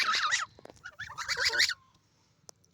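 Geese honk in two loud, close bursts of squawking calls, then fall quiet with a couple of faint clicks.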